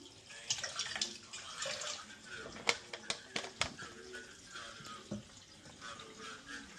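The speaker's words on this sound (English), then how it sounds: "Now it's gonna fill the tank back up with clean water." Running water pours and splashes into a fish tank as it is refilled with clean water, a steady close wash with scattered drips and clinks, with some talk over it.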